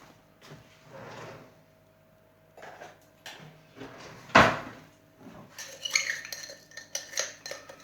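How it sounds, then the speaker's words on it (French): Metal cutlery clinks in a kitchen as a spoon is fetched, with one sharp clatter midway and lighter rattling clicks afterward, near and fairly quiet. "Je vais récupérer une cuillère."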